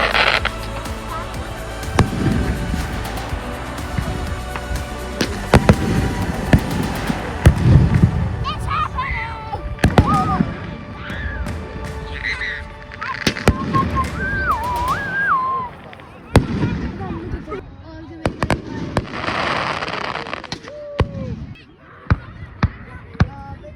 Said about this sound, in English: today is the day that we're taking Caroline to see some fireworks